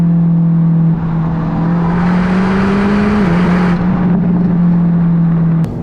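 A 2025 BMW XM Label with an Akrapovic exhaust, valves open, revs close and loud with a deep steady drone that climbs slightly and dips, then cuts off near the end.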